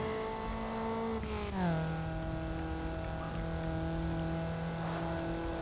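Racing car engine in Need For Speed Underground accelerating hard, a loud steady roar that rises in pitch, drops briefly around a gear change, then climbs and holds high at top speed, with no talking over it.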